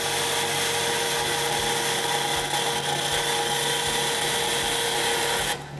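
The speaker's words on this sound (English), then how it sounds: "Just gonna head over to the bandsaw and cut this out." A bandsaw cuts a metal piece, giving a loud, steady, high-pitched whine and grinding that runs without a break for several seconds before stopping abruptly.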